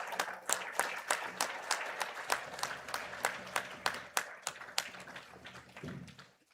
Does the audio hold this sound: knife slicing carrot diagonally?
no